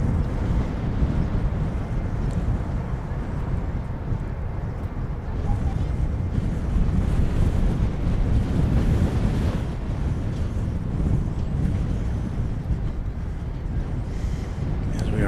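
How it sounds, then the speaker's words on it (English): A big gust of wind sweeps across the DFW Airport plane-spotting spot, a steady broadband roar buffeting the microphone for the whole stretch with no breaks. "we are subjected to a big gust of wind"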